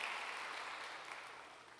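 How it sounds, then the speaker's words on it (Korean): A church congregation claps to welcome a new preacher, a steady, fairly faint wash of applause heard from a distance with no talk over it. "여러분 크게 박수로 환영하시지요"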